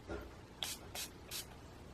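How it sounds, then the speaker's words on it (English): Makeup spray misted onto an angled eyeshadow brush, three short soft hissing spritzes evenly spaced, close and quiet in an otherwise still room. "now I'm going to again spray an angle brush"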